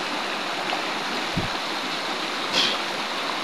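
Water in a shallow creek flows with a soft, steady rushing hiss. A brief low thump and a faint splash rise out of it near the middle and the end.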